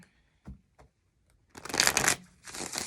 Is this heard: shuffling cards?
yes